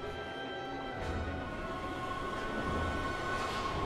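Train passing on tracks in the video game Heavy Rain, set in a London underground station: a steady low rumble with a humming tonal whine, moderately loud and continuous, no voices.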